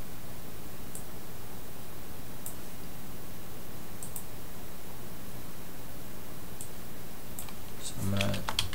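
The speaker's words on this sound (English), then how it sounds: "So I'm going to type in Windows Server here." Keys clack on a computer keyboard in a quiet room, faint scattered taps over steady hiss, building into a quicker burst of clicks near the end.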